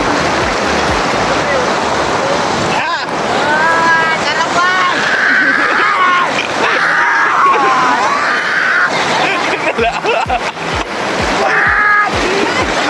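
A strong river current rushes steadily in Peñaranda, Nueva Ecija, a loud broadband roar of water lasting throughout while people talk and shout over it nearby.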